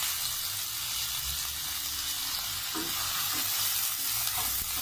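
Garlic and onion sauté in a hot pan for tortang giniling, a steady close sizzle with scraping stirs running evenly throughout, no voices.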